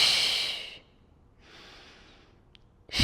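A deep, forceful exhale through the mouth during a Pilates breathing exercise, a loud breathy rush that fades out, followed by a softer inhale, close to the mic.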